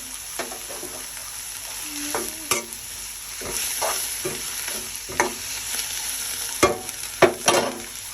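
Rice stir-frying in a pan with onion and pepper powder gives a steady sizzle under repeated scraping and tapping strokes of a spatula, the knocks getting sharper toward the end.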